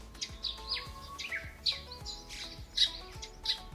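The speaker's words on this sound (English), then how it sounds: "Listen to the birds." Wild birds at Haller Park in Mombasa call all around in a steady run of squawks and chirps: repeated sharp, fairly close bursts with a faint backdrop of other birds and no talking.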